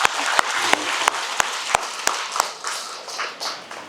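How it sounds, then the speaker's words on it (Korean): Buddhist temple worshippers applaud during a dharma talk marking the start of the 49-day Baekjung prayer period, with steady clapping punctuated by a few sharp, evenly spaced louder claps, close by and with no talk. "박수!"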